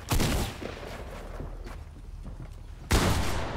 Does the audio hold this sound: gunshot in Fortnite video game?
yes